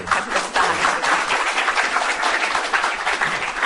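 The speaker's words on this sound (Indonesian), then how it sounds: "Boleh kasih tepuk tangan." A studio audience at an Indonesian television talk show bursts into applause, steady and fairly loud, with many hands clapping in a dense sustained patter from start to finish.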